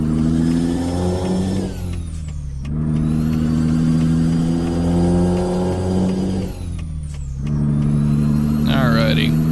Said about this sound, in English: Watching for this truck here to go by.